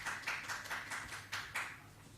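People in the public gallery of a council meeting clap faintly, a short run of uneven, distant claps with a few louder strikes near the end.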